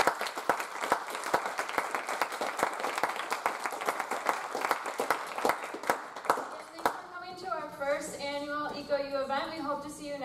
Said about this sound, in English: Why don't we give our panelists one more round of applause?